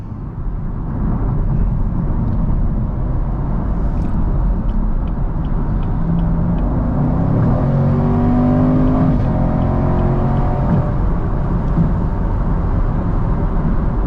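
A 2018 Chevrolet Camaro SS V8 engine roars close by under full throttle, its pitch climbing steadily as it accelerates, with a deep rumbling exhaust throughout.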